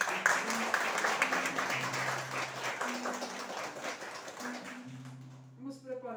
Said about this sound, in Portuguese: para todos uma bonita salva de palmas.